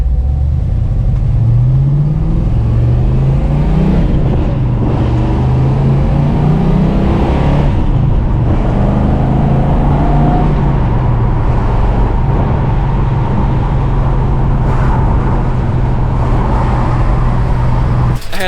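A large 1966 Dodge Charger with a lumpy old-school engine accelerates hard, a loud, steady low rumble climbing through rising gear sweeps and continuing at full volume without talk.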